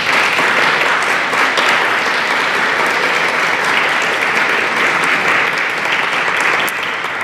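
Audience applause at a 20th anniversary event for ARKids First, sustained and loud clapping from a full room welcoming a speaker, continuing evenly throughout.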